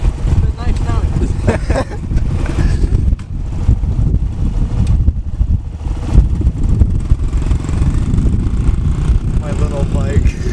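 Dirt bike engine running as a novice rider gets ready to set off, a steady rough low rumble throughout, with people talking over it.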